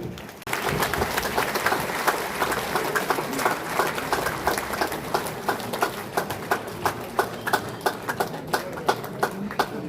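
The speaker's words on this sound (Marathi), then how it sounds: "आपण टाळ्या वाजवूया" An audience applauds steadily, claps rising quickly and continuing throughout, becoming more rhythmic and evenly spaced toward the end.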